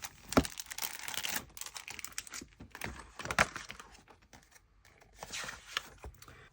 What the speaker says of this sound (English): let me get my stickers out